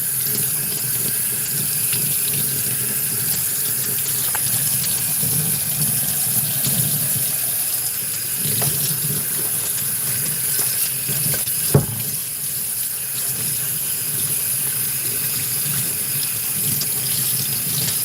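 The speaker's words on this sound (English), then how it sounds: "Get some cold water in there." Cold tap water runs steadily over a paint roller loaded with Black Phantom screen paint, a continuous close rushing splash with a single brief knock partway through.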